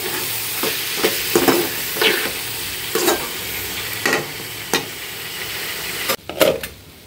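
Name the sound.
potato and green chili bhaji frying and being stirred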